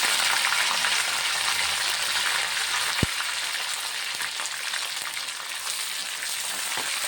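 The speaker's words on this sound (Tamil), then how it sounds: "கடுகு பொரியும் போதே வந்து நான் பூண்டு போட்டுக்கிட்டேங்க. பூண்டு போட்டுக்கலாம். அடுத்தது வந்து தக்காளியும் போட்டுக்கலாம்." Mustard seeds, garlic, tomato and curry leaves frying in hot oil give a steady, close crackling sizzle throughout, with one sharp pop partway through.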